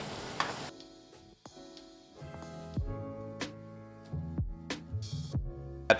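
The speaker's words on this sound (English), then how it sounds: "2 tablespoons of almond paste. And we're just gonna stir that in." Almond paste is stirred into a chicken curry in a hot pan, with steady soft sizzling and a spoon scraping and clinking against the pan in irregular knocks, close and fairly quiet.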